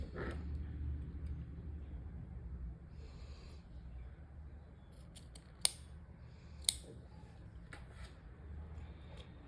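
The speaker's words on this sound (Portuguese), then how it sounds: "E vamos cortar aqui as pontas." Scissors cut the ends of crochet tape yarn, giving two sharp, close snips about a second apart over a faint low rumble, with soft handling rustles around them.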